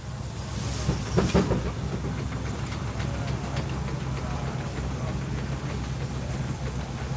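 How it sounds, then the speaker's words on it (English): A Buck Springfield steam road roller runs on a track at a threshermen's reunion steam games event, giving a steady low mechanical rumble with faint rhythmic clanking against outdoor background noise. "He runs Rough Tumble's Buck Springfield 3-road roller."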